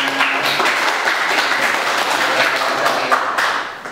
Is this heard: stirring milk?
no